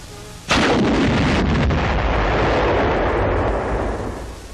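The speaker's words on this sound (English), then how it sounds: "9 of the 33-pound rockets are fired against the sloping beach wall" A volley of 33-pound rockets fired from Sherman rocket tanks bursts against a sloping concrete and granite beach wall, one sudden heavy blast followed by a sustained rumbling roar that slowly fades over several seconds.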